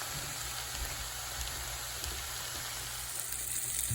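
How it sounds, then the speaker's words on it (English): Food sautéing in a pan while preparing lasagna, giving a steady, soft, even sizzle that continues throughout without pause. "It has been sauteing for like 5 minutes."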